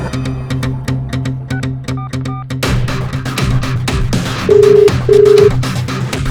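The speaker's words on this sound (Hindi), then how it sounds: "लेकिन पहले केदार को फोन कर और उसे यहाँ बुला।" A string of short electronic phone beeps, then two longer ringing tones as a call goes through, with music and background noise throughout.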